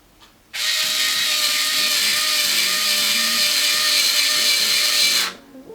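A cheap electric hair twisting machine whirs in a steady high-pitched motor drone for about five seconds, starting and stopping abruptly, close and loud with no voices.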